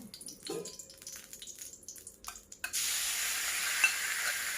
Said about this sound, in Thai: ตั้งกระทะเลยค่ะ ที่การจะหยอดน้ำมันนิดนึงนะคะ เป็นเชื้อค่ะแล้วก็หลังจากนั้นเนี่ยเราก็จะลงหมูสามชั้น